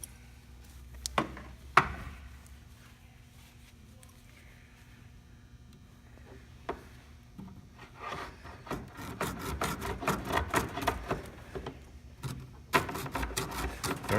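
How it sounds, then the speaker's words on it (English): Hacksaw cutting through armored CLX cable, sparse scrapes and clicks at first, then a close run of rapid rasping strokes building in the second half, briefly pausing before resuming, with no talking. "you can cut through the armor cabling, or a hacksaw"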